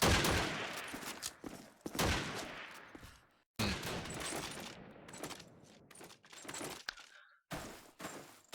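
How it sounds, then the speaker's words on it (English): Rapid bursts of game gunfire from a Call of Duty 2 competitive match on the Burgundy map, sharp loud volleys and single cracks separated by brief silent gaps, with no talk over them. "Still that 3-round deficit as Joel will go for a jumping scope shot"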